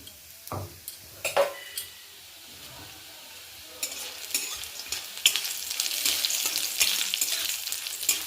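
Broken lentil bori drop into hot oil in a wok, starting with a few sharp clinks and stirs, then building into a dense, bubbling sizzle that grows louder and fills the second half, close up.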